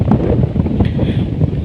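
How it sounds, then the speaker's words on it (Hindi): Strong wind gusting across an outdoor cricket ground during a hardball cricket league final, a steady low roar buffeting the microphone throughout with no pauses. "बहुत तेज हवा चलती हुई"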